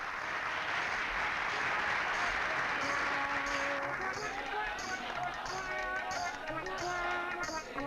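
Applause from a crowd in a courtroom scene of a Hindi film, steady clapping filling the first half and then thinning out as music-like tones and a voice come in.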